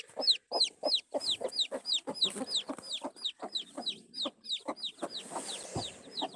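Chickens cluck in rapid, irregular bursts close by, a busy run of sharp repeated calls with short gaps, loud and clear against an otherwise quiet farmyard.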